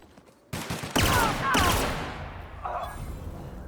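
Bursts of weapon gunfire in The Outer Worlds video game, loud and close, with a couple of rapid volleys followed by a fading tail and some background game sound.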